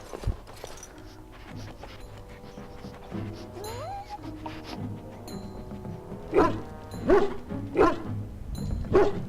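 A dog in the video game Dragon Age barks in a series of loud, gruff woofs near the end, over a quieter game scene with background tones.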